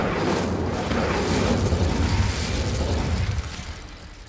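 An Incendio fire spell cast in Hogwarts Legacy, heard as a loud, sustained roaring blast of flame that holds steady for several seconds before tapering off.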